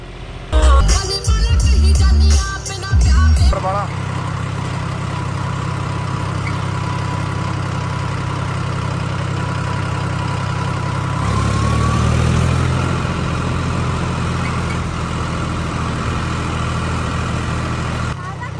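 A tractor engine idles in farm fields with a steady, loud, low rumble. A few louder irregular bursts at the start give way to an even drone that continues throughout.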